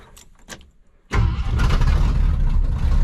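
A grimy 1969 crew cab truck cranks with a few short clicks and turns, then fires up into a loud, rumbling idle that keeps running close by.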